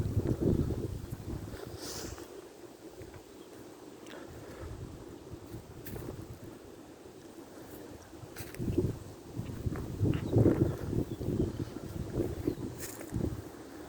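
Strong wind gusts during Storm Denis roar steadily against the microphone outdoors, a low buffeting rumble that swells into louder surges toward the end, with no speech.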